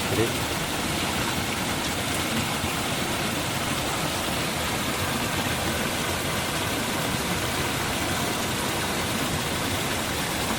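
Heavy monsoon rain pours in Konkan near Kumbhavade, Rajapur, with small streams overflowing toward the river, a dense continuous roar of falling rain and rushing water, loud and unbroken.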